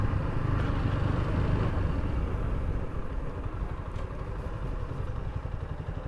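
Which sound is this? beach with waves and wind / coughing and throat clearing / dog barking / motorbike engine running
motorbike engine running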